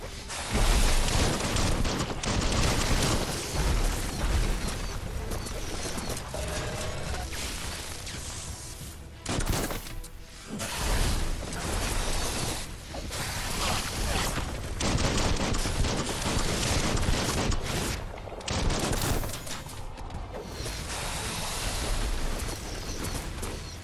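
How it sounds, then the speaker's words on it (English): Dense video game gunfire from Biomutant, with rapid overlapping shots, booms and bursts that run almost continuously, dipping briefly before the barrage resumes, loud and close. "Bullets everywhere."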